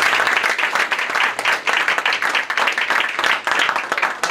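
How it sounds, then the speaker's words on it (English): Sustained applause from an audience at an Albanian-American community event, dense steady clapping filling the room for several seconds with no talk over it. "Give her a round of applause"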